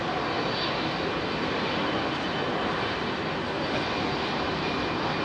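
An Emirates freighter jet powers past Heathrow runway 27R, a loud, dense, unbroken engine roar that holds steady and close throughout.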